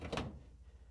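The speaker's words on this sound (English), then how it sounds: "Now I'm going to hold the door and the hinge assembly, and I'm going to lift it up." A Whirlpool dryer door and hinge assembly being lifted off the dryer: one brief, soft, dull thunk of the door coming free, fading into quiet room noise.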